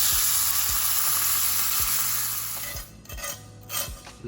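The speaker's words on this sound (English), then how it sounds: "now I'm going to make my breakfast steak before I leave for the forest" A breakfast steak frying in a pan, a loud steady sizzle close up that eases off partway through as a few utensil clinks and handling sounds come in.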